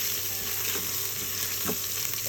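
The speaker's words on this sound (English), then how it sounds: "once the spices start sputtering, then I go ahead and add in my ginger garlic" Spices sputter in hot oil with ginger garlic for an Instant Pot chicken biryani, making a dense, continuous frying hiss with a faint hum, close and steady, with one brief clack partway through and no talking.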